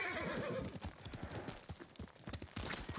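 Horse galloping in the video game Ghost of Tsushima: rapid, dense hoofbeats drum on close and loud with a whinny mixed in, continuous across the whole stretch.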